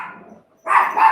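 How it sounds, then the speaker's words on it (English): Dogs bark in the background during an indoor interview, a faint bark at the start, then a louder burst of barking after a brief pause. "Dogs."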